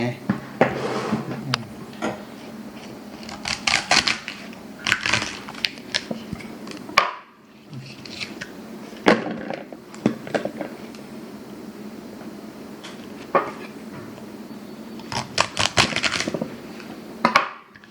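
A knife chops water spinach on a cutting board in irregular bursts of quick taps, with pauses between runs, while a person talks alongside.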